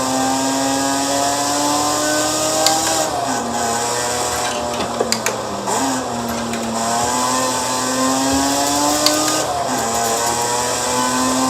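A Lotus sports car engine drones steadily at high revs, its pitch dipping and climbing with a few blips, loud and continuous with no voices.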